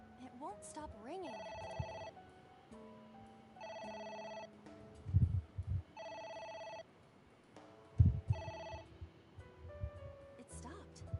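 Repeated electronic telephone rings in a video game, four or five evenly spaced bursts that keep going, while a player talks over them with a few louder thuds in between.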